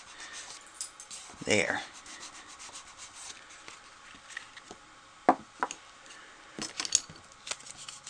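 A bone folder rubbed across paper while a standup Mother's Day card is assembled, giving soft scraping strokes close by, one longer pass followed by a few brief ones, with a single word spoken quietly.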